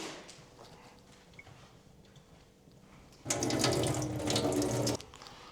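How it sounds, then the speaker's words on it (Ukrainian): Vinegar water poured off pickled onions into a sink, a steady splashing drain starting partway through after a quiet kitchen background and stopping abruptly near the end. "тепер давайте злиємо наш оцет з водою з нашої цибулі."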